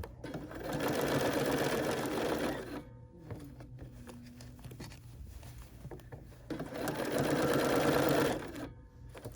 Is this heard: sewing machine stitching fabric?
yes